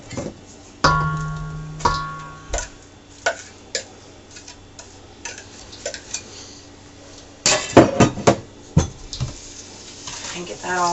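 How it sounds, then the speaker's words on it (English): A utensil clinks and taps against a bowl while grated zucchini is worked into a creamy batter of sugar, egg and vanilla, with scattered sharp knocks and a busier cluster of clatter near the end. "to this we're going to mix in the zucchini"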